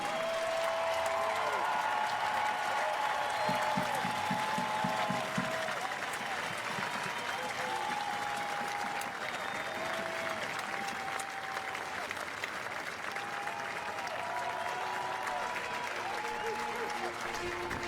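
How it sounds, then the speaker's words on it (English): A stadium crowd at a Sacramento Republic FC soccer match applauds a hometown hero with sustained clapping and cheering from start to end, with whistles and a few voices mixed in. "Please rise and join us in recognizing and applauding Sacramento's very own hometown hero, Anthony Sadler."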